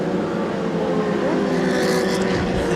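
Can-Am Midget race cars racing at Capital City Speedway, engines roaring steadily and loud as cars circle close by, with a rising, swelling engine note toward the end as one passes.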